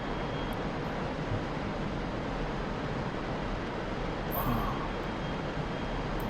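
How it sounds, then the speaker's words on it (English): In a flight simulator game, a MiG-29A jet engine throttles up as a steady broadband roar that holds even and continuous throughout, moderately loud, with a faint tone and a brief chirp near the end. "Here I'm pushing the throttle up."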